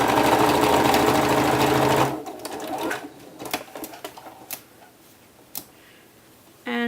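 A sewing machine runs in a fast, steady stitching burst as sleeves are sewn from the wrong side of a beginner peasant top, then stops, leaving faint handling clicks and rustles close by.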